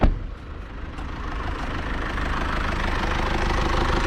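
Steady, rumbling idle of a 2020 Mercedes E200d diesel engine heard with the hood closed, with a low clattering diesel knock, continuous and fairly close, with no voices.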